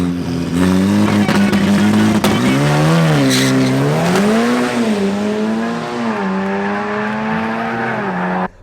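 A drag race car makes a run at a Cash Days event, its engine roaring loud and continuous with pitch swooping up and down through revs and shifts before cutting off abruptly, with some talk mixed in.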